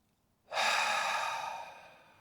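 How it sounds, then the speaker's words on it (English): A deep breath drawn in during a guided bed-mobility breathing exercise, a single long airy inhale starting abruptly and slowly fading, close and clear with no talking. "Take a deep breath in"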